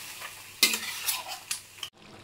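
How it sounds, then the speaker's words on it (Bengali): Chicken being sautéed over a high flame in a pan for methi chicken, with a few sharp stirring scrapes and brief bursts of sizzle, heard close and moderately loud before the sound cuts off abruptly. "হাই ফ্লেমে 2 মিনিট মতন আমি চিকেনটাকে কষিয়ে নিয়েছি।"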